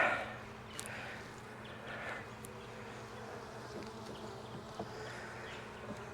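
Honey bees hum around an open hive in a Jacksonville, Florida apiary, a soft, steady swarm drone with an occasional bee passing close, fairly quiet throughout.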